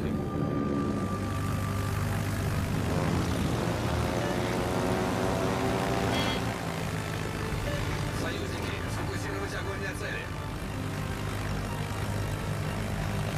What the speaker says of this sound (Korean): 새로 나온 독일 폭격기 고도가 높아요.